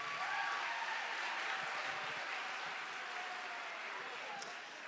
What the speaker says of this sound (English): So a big round of applause for our volunteers for this weekend.